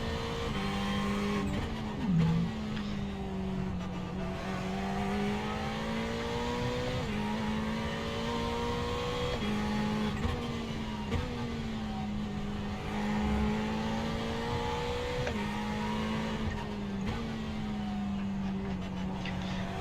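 A Ferrari 488 race car laps Brands Hatch in the iRacing video game on cold tires, its engine droning steadily and loudly throughout, pitch rising and falling through gear changes and corners, with faint tire scrubbing and no talking.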